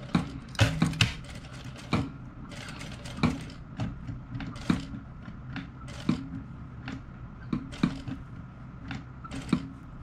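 A sewing machine stitches a pyjama collar, giving a close run of uneven mechanical clicks and short clattering bursts, with no voice.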